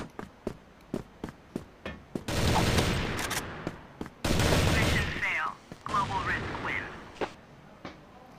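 Rifle fire in the CrossFire shooter game: a fast run of sharp, evenly spaced shots, interrupted by longer roaring bursts of noise, with a voice faintly underneath.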